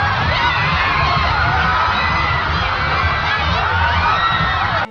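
A crowd cheers for Goku in a Dragon Ball Daima episode, a dense, continuous wall of shouting and whooping voices that stays loud throughout before cutting off abruptly.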